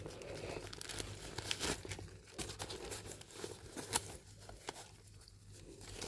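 Protective packaging inside a Coach Rainbow Candy Crystal Tabby 26 handbag box being handled, with continuous close crinkling and rustling of paper or plastic over a steady low hum.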